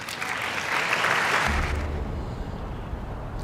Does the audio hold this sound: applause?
yes